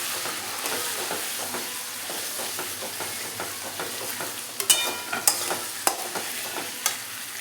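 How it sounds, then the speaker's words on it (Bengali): Cumin paste is stirred into potatoes frying in a pan: a steady sizzle with rhythmic spatula scrapes, then sharper metallic clanks against the pan near the end. "হয়ে গেছে আলু ফ্রাই। এবার আমি এই জিরে বাটা দিয়ে দেবো।"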